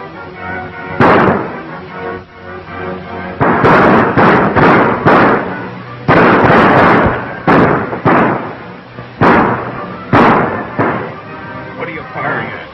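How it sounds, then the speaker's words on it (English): Gunfire in an old film, with repeated loud, sharp shots coming in irregular clusters over a steady background. Each bang is heavy and close. "What are you firing at?"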